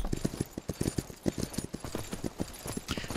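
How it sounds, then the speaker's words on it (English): Hooves of a horse trotting in the video game Myth of Empires, a quick, even clip-clop rhythm of muffled thuds, fairly close and steady throughout. "I think this is a good trot."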